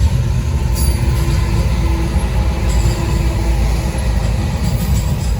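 A Norfolk Southern freight train led by two ES44DC locomotives with a mid-train DPU rolls past, giving a steady, loud low rumble of rail cars and wheels throughout with brief squeals overhead.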